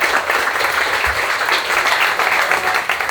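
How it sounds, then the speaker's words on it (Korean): A seated audience at a Korean pitching event claps for arriving guests, a short dense burst of applause, loud and steady for about three seconds with no voices over it. "박수 한번 쳐드리겠습니다."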